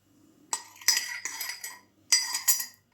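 A utensil clinks and scrapes against a bowl while honey cake dough is mixed, a few separate bursts of metallic knocking and stirring, close and without talk.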